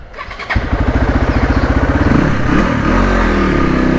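A motorcycle engine cranks and catches, with rapid rhythmic pulses settling into a loud, close, steady running rumble; no talking.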